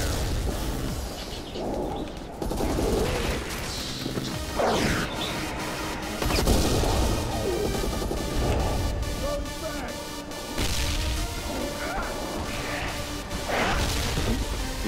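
Rapid gunfire rattles through a chaotic zombie shootout in the game Land of the Dead, sharp repeated cracks and smashes layered over constant action noise while players talk over it.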